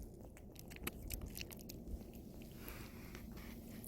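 A cat chews and crunches its food up close, with quick irregular bites and clicks over a soft, steady background hiss.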